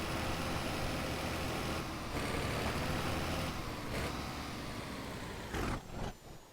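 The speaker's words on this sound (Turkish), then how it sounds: "Şu an acayip zorlanıyor araba." Damaged Fiat Ducato van engine straining hard while driving an off-road village track in BeamNG.drive, a steady loud low drone with rough engine texture, briefly dipping and then sputtering toward the end, no talk.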